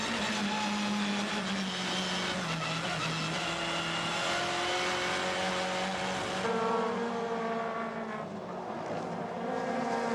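WTCC touring race cars at Paul Ricard in France, engines droning loudly and continuously as they sweep past at high speed, with pitch shifts as gears change and the cars go by.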